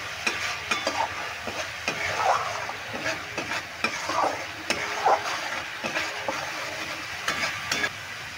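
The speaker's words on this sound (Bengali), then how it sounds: "এবার মশলাটা ভালো করে নেড়ে কষিয়ে নিতে হবে।" Spice masala being stirred and fried in a pan with a little water, a steady sizzle broken by repeated scraping strokes of the spoon, close and moderately loud with no talk.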